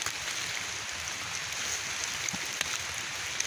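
Rain falls steadily in Tawang village, Semarang Regency, Central Java, a soft continuous hiss that stays even throughout with no voices over it.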